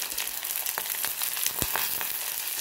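Mustard seeds and fennel seeds fry in hot oil for a chickpea curry, giving a continuous close hiss peppered with quick pops and crackles.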